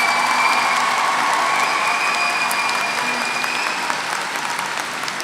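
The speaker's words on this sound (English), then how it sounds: "Let's give a round of applause for our senior class representatives." A large graduation audience at a 2022 high school ceremony applauds steadily, a dense continuous wash of clapping from a big crowd with faint cheering, loud throughout.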